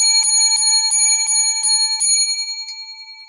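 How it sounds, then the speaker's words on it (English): A small bell rung in a quick series of seven even strikes, bright and close, with the last one lighter and the ringing fading away. "Seven lucky bells for this week's progressive discussions"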